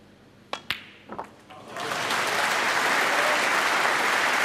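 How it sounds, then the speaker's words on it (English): A couple of sharp knocks, then applause for a shot in a snooker match at the 2019 Masters final, a full, steady round of clapping from the arena crowd that swells in and holds. "that was Judd's brother there, Jack, applauding that shot"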